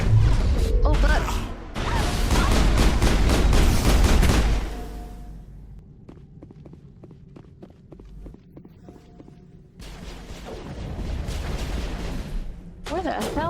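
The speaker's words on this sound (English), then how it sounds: "I hear shooting, but I see nothing." Shooting in the sci-fi video game Mass Effect comes as dense bursts of gunfire and crashes, then sparse scattered shots, then heavier firing again, mixed with game action and a voice talking.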